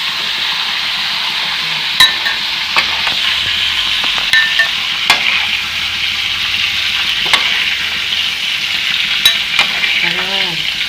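Garlic pork sizzles steadily in hot oil in a pan while a spatula stirs it, with occasional light metallic clinks against the pan over the constant close frying hiss.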